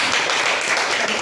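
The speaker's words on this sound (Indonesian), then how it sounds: "Kita beri tepuk tangan dulu." A classroom of students claps for a classmate, steady dense applause from a nearby group filling the moment without speech.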